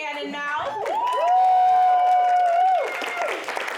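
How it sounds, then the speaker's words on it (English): A single voice holds a long whooping cheer, then clapping and crowd noise swell in near the end. "And one more round of applause for Steven and Cannon Mouth."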